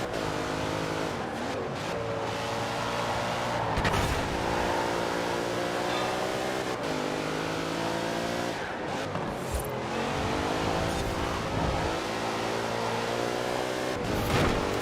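A race car in Forza Horizon 4 accelerates hard, its engine climbing through gears in repeated rising sweeps with brief dips at shifts, loud and continuous for about fifteen seconds with occasional tire noise.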